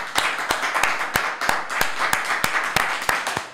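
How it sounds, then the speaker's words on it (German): Someone claps on request during a live stream, about a dozen sharp, evenly spaced claps in a steady rhythm, close and fairly loud. "Einmal klatschen uns, bitte."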